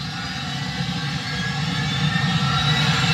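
An airplane taking off, a continuous roaring engine rush that swells slightly louder toward the end, heard on its own without voices.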